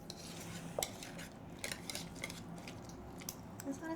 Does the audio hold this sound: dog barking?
no